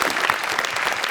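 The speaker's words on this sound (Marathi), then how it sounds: "जोरदार टाळ्या." Audience applause at a Marathi television comedy show, a steady, dense burst of clapping from a crowd filling the whole short moment without any talk.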